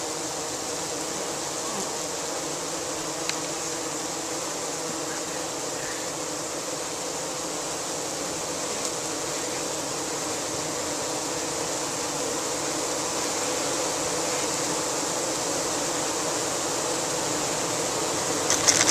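A swarm of honeybees gathered in a bucket from a swarm trap hums with a steady, dense buzz that holds at an even level throughout, close to the microphone and free of talk.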